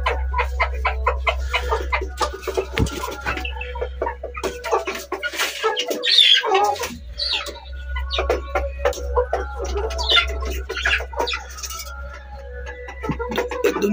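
A farm chicken clucks repeatedly and close, in quick irregular bursts over a steady low electrical hum, with a brief flurry of movement midway.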